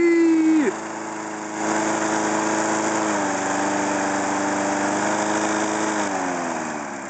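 A Homelite lawn mower rated at 4 horsepower, fuelled with stale gas, has a first engine note that cuts off, then catches and runs with a loud, steady close-up drone, pitch shifting slightly as it settles.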